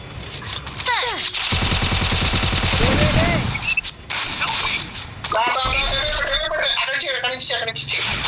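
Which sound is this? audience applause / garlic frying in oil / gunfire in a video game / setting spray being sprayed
gunfire in a video game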